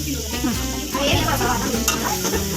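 Chicken curry with curry leaves and tomatoes sizzles loudly in a pan while a spoon stirs and scrapes it, continuous close frying with irregular stirring knocks.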